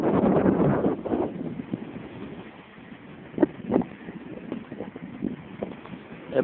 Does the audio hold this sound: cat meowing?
no